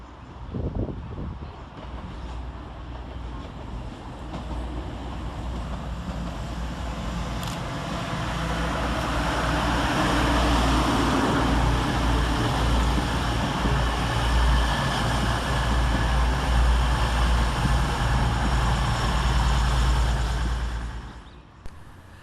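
An East Midlands Railway Class 222 Meridian diesel unit pulls into Leicester station, a steady, swelling engine rumble and wheel roar that builds and holds for about twenty seconds before cutting off.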